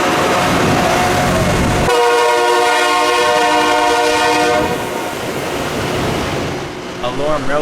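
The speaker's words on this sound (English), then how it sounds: "A LORAM Rail Grinder, the first I had ever seen in person." A LORAM rail grinder train on Norfolk Southern tracks in Southwest Virginia, a loud sustained horn-like tonal drone over rumbling wheels, fading toward the end as a voice talks briefly.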